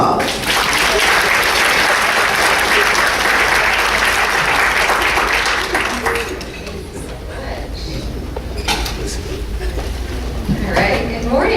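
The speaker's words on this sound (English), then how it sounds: "Let's give her a round of applause." At a MIMA 2018 health conference session, an audience gives a loud round of applause for a speaker, dense clapping that thins after six seconds into scattered claps and room noise.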